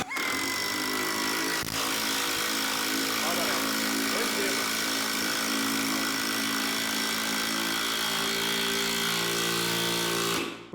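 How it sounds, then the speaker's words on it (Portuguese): A cordless impact driver from OZ/The Black Tools drives a used 7.5x80 screw into wood without a pilot hole, a loud continuous hammering whir that runs nonstop for about ten seconds before cutting off. "nós vamos colocar esse parafuso sem pré-furo"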